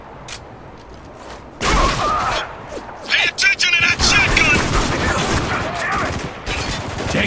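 Battlefield gunfire in Spec Ops: The Line, a burst of heavy shooting with crackling volleys and loud impacts after a quiet start, mixed with shouted voices.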